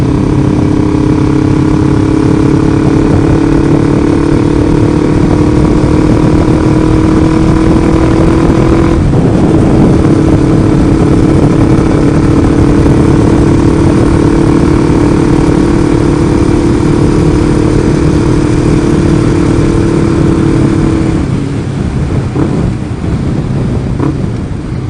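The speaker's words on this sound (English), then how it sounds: "hopefully you can hear me okay over the bike. The exhaust is a little loud" A Kawasaki Ninja 500R motorcycle engine drones loudly and steadily through a throaty exhaust, close by, with a brief shift in pitch partway through and no talking.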